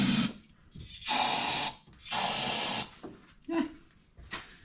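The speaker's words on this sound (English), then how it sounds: "we're just gonna try to use carbon choke cleaner." Carb and choke cleaner is sprayed into a small engine in short, loud hissing bursts with pauses between them, and a voice is faintly heard in the gaps.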